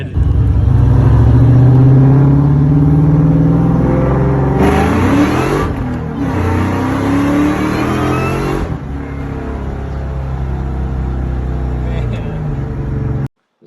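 A 2001 Ford Mustang Bullitt accelerates hard in a race against a Subaru, its loud, close engine roaring steadily through rising revs, with a brief shift dip midway and continuous rumble throughout.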